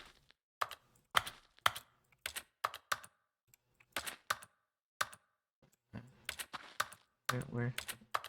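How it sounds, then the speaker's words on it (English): Keys clack on a computer keyboard in a video game, bursts of close, crisp taps in uneven clusters with short pauses between them. "I just want to push the buttons on the keyboard again."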